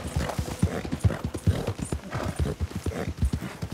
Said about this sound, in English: How do you get your horse to stop making that god awful sound?